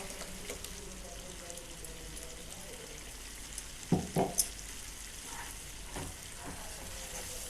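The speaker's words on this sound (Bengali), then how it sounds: "মশলাটাতে আমার তেল ছেড়ে দিয়েছে। এখন আমি পালকের পেস্টটা দিয়ে দিব।" Spinach paste tipped into spiced oil in a pan: a continuous, even sizzle fills the whole stretch, with a brief cluster of louder splutters and stirring knocks near the middle.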